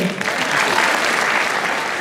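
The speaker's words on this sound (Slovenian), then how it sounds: "danes pa goduje tudi naš poseben gost, ki mu le namenite velik aplavz" A concert audience at a folk music show in Koprivnica breaks into full, dense applause for a special guest, a loud continuous roar of clapping that holds steady with a hint of voices mixed in.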